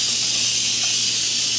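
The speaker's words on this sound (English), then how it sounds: "obviously it's hot ass steam." An Instant Pot on quick release, venting a loud, continuous high-pitched hiss of steam close up, steady and unbroken throughout.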